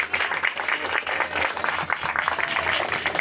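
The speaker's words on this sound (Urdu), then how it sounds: "ہم زوردار تالیاں بجا کر خداوند کے نام کو مبارک کریں" A church congregation applauds loudly in a continuous dense roar of clapping. The applause is sustained and steady across the whole stretch, with faint voices mixed in.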